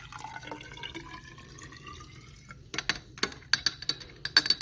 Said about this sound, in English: I'll just pour the rest of it into my graduated cylinder